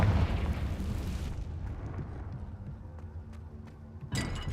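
Spell blasts from Bombarda and Confringo detonate in Hogwarts Legacy, a heavy rumbling explosion that fades over a few seconds, followed by a sharper second burst near the end.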